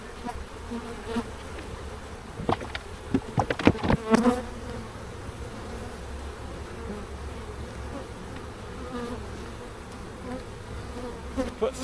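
Honey bees buzz steadily around an open hive during an inspection, a dense close hum. Several louder knocks and clatters of frames being handled sound early on.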